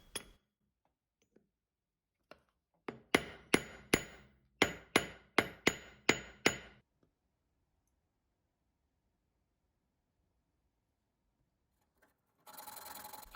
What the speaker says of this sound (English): With the help of a collet punch, I am forming the piece into the octagonal cone shape.